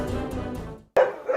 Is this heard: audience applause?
no